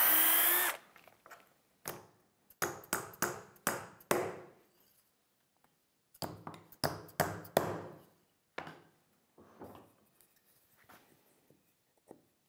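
A power drill bores into the centre of a workpiece through a dowelling jig in short, repeated bursts with brief pauses between them, close and fairly loud, then trails off into quieter scraping.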